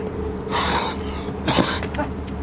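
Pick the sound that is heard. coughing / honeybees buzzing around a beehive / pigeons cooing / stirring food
coughing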